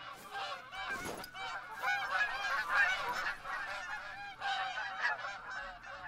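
Distant ducks call steadily in overlapping nasal honks and quacks, forming a continuous flock chorus.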